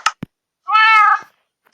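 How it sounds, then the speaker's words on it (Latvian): A single clear cat meow from Minecraft, loud and close, lasting about half a second after a couple of short clicks, with no talk. "Nākošais dzīvnieks bija kaķis, jā."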